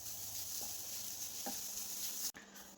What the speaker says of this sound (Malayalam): ഈ തേങ്ങ ഇവിടെ ഫ്രൈ ആയി വന്നിട്ടുണ്ട്.